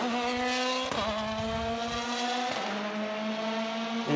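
Drift race car engine wailing through hillside corners, a loud steady harmonic drone that drops in pitch at gear changes and revs back up, with no talk over it.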